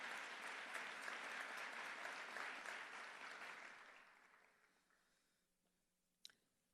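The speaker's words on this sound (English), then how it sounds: "give the Human Rights Department staff a round of applause" An audience at a memorial breakfast event gives the staff a round of applause, steady and dense at first, then tapering away to near silence, with a sharp click near the end.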